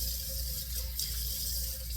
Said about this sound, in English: After getting some cold water on my face.